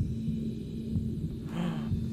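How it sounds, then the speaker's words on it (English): The looping heartbeat from the horror video game Bendy and the Ink Machine throbs low and steady beneath a constant hum, its soft regular pulses distinct but quiet, with no voices. "Do you hear the heartbeat? Yeah. That's the Bendy heartbeat."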